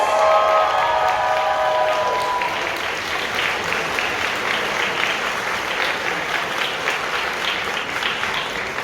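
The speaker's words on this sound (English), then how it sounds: "A big round of applause!" An audience at an awards ceremony for a convention closing breaks into sustained applause with a little cheering, dense clapping filling the room after a brief tonal sound at the start.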